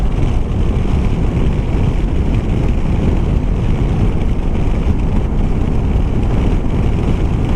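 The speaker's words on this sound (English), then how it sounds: "It's a little bit windy today. I'm catching a bit of wind." Steady, loud wind buffeting a microphone outdoors, a continuous low rumbling roar that fills the whole clip without letup.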